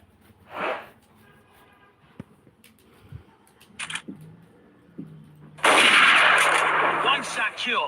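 Single sharp gunshot blasts ring out in a shooter video game, with a brief crack early, scattered clicks and mechanical sounds, then a loud sustained burst of gunfire and noise toward the end.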